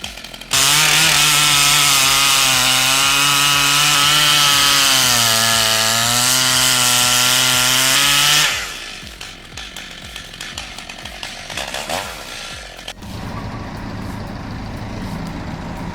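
A chainsaw with a razor-sharp rapid micro chain cuts down a tree, its engine screaming loud and close at high revs for about eight seconds, then dropping away to idle sputters, creaks and rustling as the cut ends.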